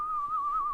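A voice whistles a short, steady, wavering tune in imitation of the eerie melody from the movie Mars Attacks, heard alone and close for under a second.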